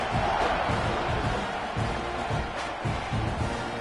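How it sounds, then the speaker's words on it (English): Stadium crowd in a college football video game featuring Ole Miss, a steady dense roar of buzzing fans filling the whole stretch after a score, loud and continuous with no clear words. "this crowd is buzzing after that last score"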